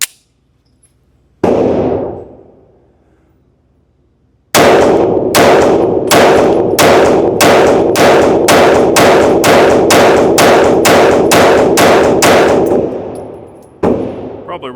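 Shadow Systems CR920XP pistol firing at a range: one loud shot, a pause, then a steady rapid string of about fifteen sharp, close reports that ends in silence, followed by a faint clatter.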